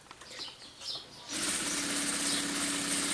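A sewing machine stitches pouch fabric for a nesting-doll style zip bag, its steady mechanical whir starting abruptly after quiet handling sounds and running continuously at close range.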